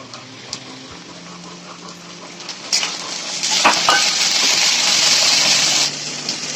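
Chopped tomatoes are tipped into fried onions in a pan for an eggplant masala, setting off a sudden loud sizzle that keeps crackling, with clinks of a spoon stirring against the metal before and during.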